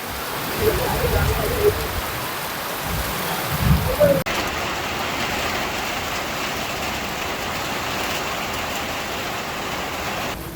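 Heavy rain with wind pours down on a farm as a steady, dense hiss, with a few dull knocks early on before the downpour settles into an even, continuous wash.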